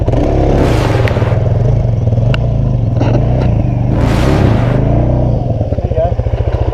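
A motorcycle engine revs loudly and continuously throughout, a dense low roar with bursts of clattering, interrupted by shouted talk nearby.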